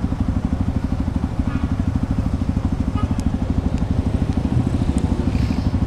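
Motorcycle engine idling close by, a steady rapid low putter with faint clatter and crackle, running unbroken and alone.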